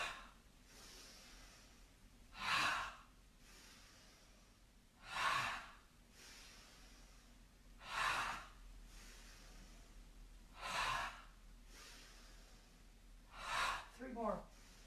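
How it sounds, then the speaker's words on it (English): Five slow, deep breaths during a standing exercise routine, each a loud, airy inhale-exhale swell spaced about every three seconds, the last one split into two quick pulls, with quiet room tone between. "we're going to simply inhale up and exhale"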